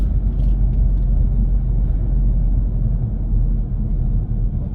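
A car engine idling and creeping in stop-and-go traffic, a low, steady rumble and whir heard from inside the cabin, fairly loud and continuous with no talk.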